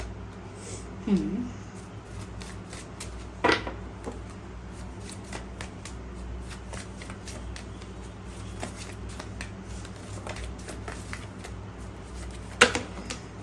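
Tarot cards being shuffled by hand, with soft riffling and flicking plus a few sharper snaps, fairly quiet and intermittent, with no talking during the shuffle.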